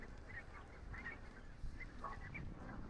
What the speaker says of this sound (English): that's why they're having a bit of a squawk